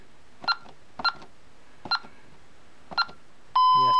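Honeywell Vista alarm panel keypad giving four short, evenly spaced electronic beeps as a number is keyed in, followed by a longer steady tone at the end, close and clear.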